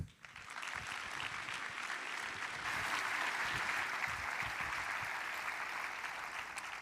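Audience applauding to welcome Jeff Leek to the stage at a data science talk, a steady, dense wash of clapping that holds at an even level for several seconds with no speech over it.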